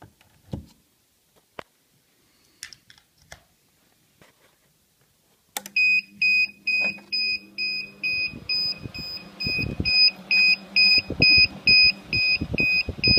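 A few faint clicks, then a loud electronic alarm on a homemade incubator starts beeping in a steady repeating pattern over a low hum.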